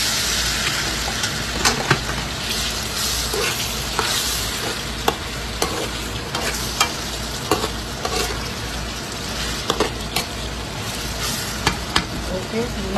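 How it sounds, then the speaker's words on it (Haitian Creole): Spices, pepper, chili and celery frying in hot oil for Haitian millet, a loud continuous sizzle with scattered scraping ticks from stirring. "Nous mettons piment, bois céleri, et puis du frit, nous tournons"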